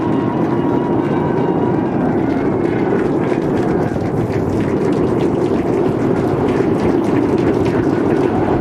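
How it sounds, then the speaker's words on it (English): A SpaceX Starship rocket climbs on 33 Raptor engines, a loud, constant, broadband roar that rumbles on unbroken throughout. "We are seeing 33 out of 33 Raptor engines ignited."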